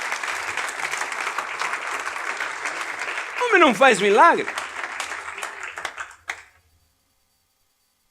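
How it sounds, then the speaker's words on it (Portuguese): A church congregation applauds throughout while a preacher speaks over the clapping, which swells briefly and then cuts off abruptly near the end. "Vocês podiam aplaudir Jesus,"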